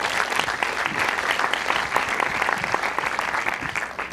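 An audience claps steadily, a dense patter of many hands sustained throughout without pause, at the opening ceremony of the Chéries-Chéris 2015 film festival.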